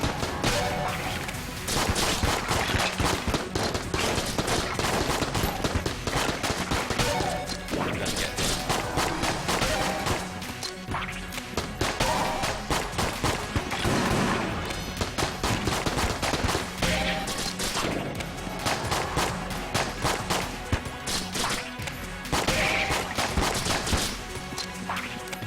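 Rapid handgun fire in the video game Enter the Gungeon, a dense, relentless stream of sharp shots mixed with game effects that keeps going almost without pause at a constant loud level.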